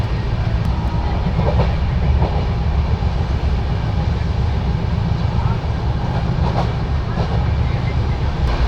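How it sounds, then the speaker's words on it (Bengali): Inside the Kolkata–Radhikapur Express running on its tracks, a loud continuous rumble of the moving train carries throughout, with rhythmic wheel clatter and a voice talking over it. "কলকাতা থেকে ট্রেন ছেড়ে দিয়েছে এইমাত্র ট্রেন দমদম স্টেশন স্কিপ করলো"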